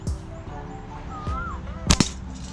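A slingshot fitted with a special high-spec rubber band fires outdoors near farm plots, giving a sharp double snap-and-whip about two seconds in, with faint bird calls in the background.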